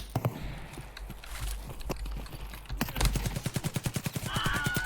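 Rapid bursts of gunfire from the video game Escape from Tarkov, a UMP.45 among the weapons, starting with scattered shots and building into a loud, evenly spaced volley of repeated rounds.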